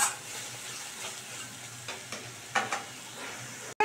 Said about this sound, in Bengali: দিয়ে এবার কিন্তু আমি খুব ভালো করে মশলাটাকে কষিয়ে নেব, যতক্ষণ না মশলা থেকে তেল ছাড়ছে।